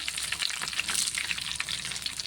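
Crispy chicken leg pieces fry in hot oil with a steady, bright sizzle and crackle, close and continuous without talk.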